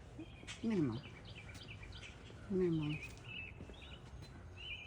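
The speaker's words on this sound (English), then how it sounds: "mostly birds" Outdoor bird calls near a quiet garden path where doves gather: two short, fairly loud chirping phrases stand out over a steady murmur of faint distant birdsong.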